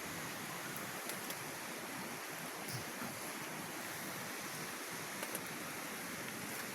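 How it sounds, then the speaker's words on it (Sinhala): Flowing water makes a steady broadband rush, constant and fairly faint at a distance, with wind-like noise and occasional faint clicks. No one talks. "තාම වතුර පාර එනවා හැබැයි"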